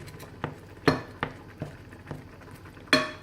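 Escalope with paprika stirred in a pan, a utensil knocking and scraping against the metal in several irregular clinks over a low background, with no talking.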